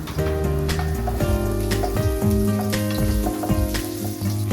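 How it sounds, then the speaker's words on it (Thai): Steady, loud sizzling of ginger stir-frying in hot oil in a wok, with occasional clinks and scrapes of stirring. "พอกระทะเราร้อนได้ที่ เดี๋ยวเราก็จะทำการผัดขิงกันก่อนเลยค่ะ"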